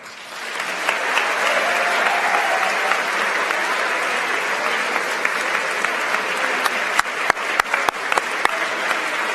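Steady applause from an awards-ceremony audience honoring a first-place K-12 team, dense clapping sustained throughout, with a few sharp louder claps standing out near the end.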